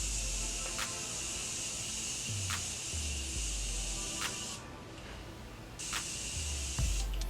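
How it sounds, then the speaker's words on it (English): A Morphe Continuous Setting Mist sprays a fine, steady hiss close by, with a short break partway through and several faint clicks. "to set this entire makeup look, I'm going to use my Morphe Continuous Setting Mist"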